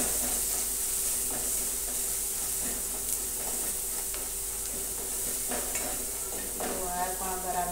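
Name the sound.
stirring chili powder and spices into cooking bottle gourd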